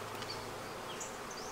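Honey bees buzzing around an open beehive, a soft continuous hum, faint and steady, heard briefly and alone.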